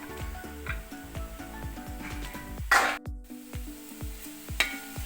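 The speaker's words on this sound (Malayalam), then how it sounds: "സവാളയൊക്കെ നന്നായിട്ട് വഴണ്ട് വന്നിട്ടുണ്ട്" Sliced onions sautéing in a pan for a Thattukada-style kappa biriyani, a steady soft sizzle broken by regular scraping stirs and ticking taps of the spoon against the pan, close and moderately loud, no talk.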